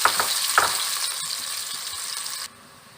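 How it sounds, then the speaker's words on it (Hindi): Chopped onions sizzling in hot oil in a pan for a moong dal bhaap badi salan, a loud steady crackle with a few stirring scrapes before the hiss suddenly drops away. "ऑयल गर्म हो चुका है। अब हम इसमें प्याज ऐड करेंगे। बिस्मिल्लाहिर्रहमानिर्रहीम। इसे फ्राई करेंगे।"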